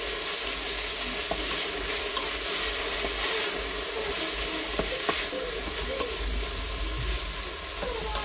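Split pea and ham soup ingredients sauté in a pot with a steady, continuous sizzle and occasional stirring scrapes, fairly close and even throughout with no talking.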